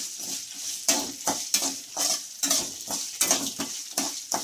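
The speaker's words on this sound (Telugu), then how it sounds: "నేను కూడా సిమ్లోనే పెట్టి వేయిస్తున్నాను చూడండి స్లోగా" Ginger pieces fry slowly in a pan on a low flame, a soft sizzle broken by regular stirring scrapes about every half second, close and without talk.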